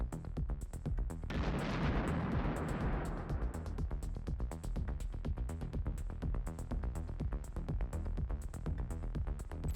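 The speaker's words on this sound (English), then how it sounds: "the destruction of an enemy armored vehicle by the Ukrainian military using a javelin" A Javelin missile strikes an enemy armored vehicle: one heavy blast bursts out and rumbles away over a few seconds, while a steady rhythmic clicking runs through the whole stretch.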